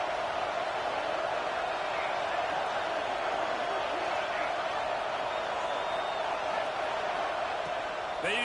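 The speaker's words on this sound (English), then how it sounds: "Man, this crowd really affecting the football game." Home stadium crowd in an NCAA college football video game, a steady, loud roar of cheering and noise sustained throughout, with faint bursts layered on top.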